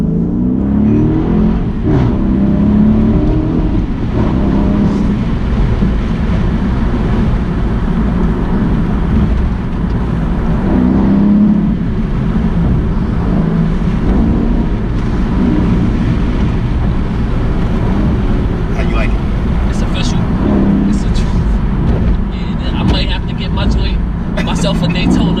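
A 2017 Dodge Charger Daytona engine rumbles loudly and steadily from inside the car, with a deep, continuous drone and occasional revving swells. Voices talk over it throughout.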